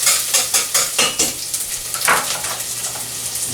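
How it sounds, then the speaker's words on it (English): Chopped onion frying in butter in a pot while a spoon stirs it: a run of rhythmic scraping strokes over a continuous close sizzle, then the stirring slows and the frying carries on alone. "I'm going to give that onion a little stir."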